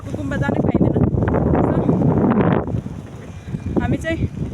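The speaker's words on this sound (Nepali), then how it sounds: "हावा चाहिँ एकदम ओभर चलिरहेको छ है।" Strong mountain wind near Phoksundo in Dolpa, Nepal, buffeting the microphone in loud, sustained gusts, with people talking over it.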